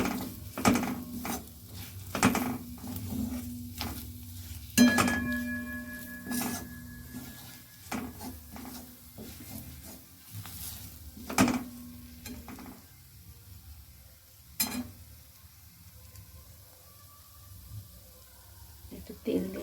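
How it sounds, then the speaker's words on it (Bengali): Ground turmeric, cumin and chilli powder frying in a pan, heard as a faint, soft sizzle broken by sharp clinks and scrapes of a utensil against the pan. "এটাকে দিয়ে আমি খুব ভালো করে ভেজে নেব।"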